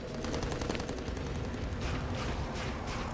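Rapid gunfire from the shooter video game Battleborn, a dense continuous burst of shots filling the whole stretch, loud and close with no pauses.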